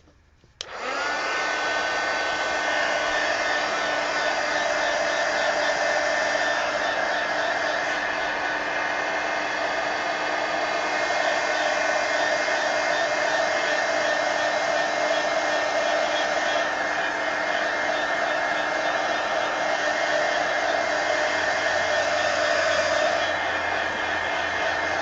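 A heat tool blows hot air to dry an art journal page, switching on abruptly and then roaring loudly and steadily without pause, close by.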